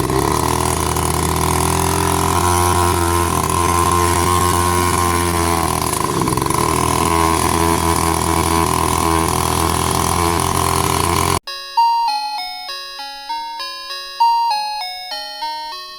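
A motorcycle engine idles low and needs steady throttle, giving a loud continuous rumble with slight surges for about eleven seconds, then cuts off abruptly and is followed by a bright melodic chime tune.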